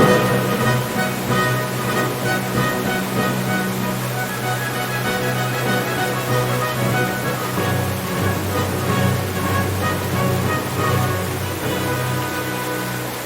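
Palace fountains send water cascading over very rare shells, a dense, continuous rushing and splashing that stays loud and even throughout, with no voices.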